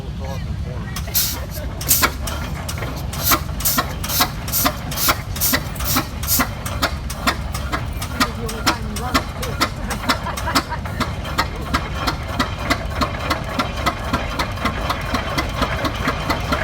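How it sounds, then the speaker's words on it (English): A 1917 Eagle F 16-30 tractor's two-cylinder engine running nearby, a steady slow chugging of sharp regular knocks from one piston then the other, with someone talking over it. "If you listen to that engine, it was very distinct. One piston, then the other."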